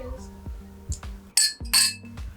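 Glasses clink together in a toast, first a few light taps and then two bright, ringing clinks close by, with faint voices murmuring around them.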